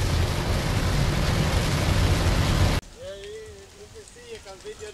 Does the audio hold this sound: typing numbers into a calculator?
no